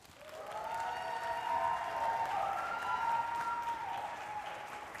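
A church audience applauding to welcome a guest speaker at a book launch, sustained, even clapping that swells quickly and holds steady for several seconds.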